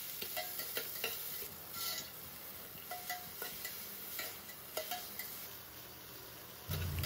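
Onion, tomato, cumin and peanuts sizzle in hot oil for a tadka, a soft steady crackle broken by light stirring taps and clinks of a utensil against the pan.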